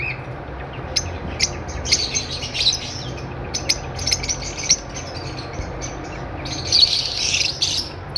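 A blue pastel spritino breeder pair of birds calling, sharp chirps and squawks in bursts over a low background hum, close by.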